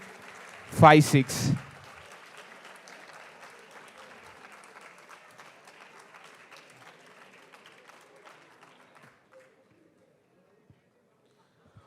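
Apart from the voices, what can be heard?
audience applause at hackathon prize announcement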